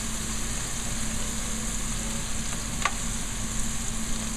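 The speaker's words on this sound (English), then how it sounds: "This is where we're going to sear the meat as well as fry the shallots." Shallots sizzling in hot oil in a heavy-bottomed pan, a steady, even crackling hiss that carries through the whole stretch, with a faint tap partway through.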